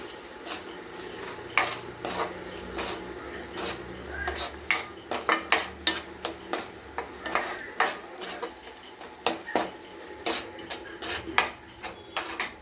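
A spoon scrapes and clinks steadily against a pan while food with turmeric and chili powder is stirred, the rhythmic metallic strokes repeating over a faint sizzle with no talking.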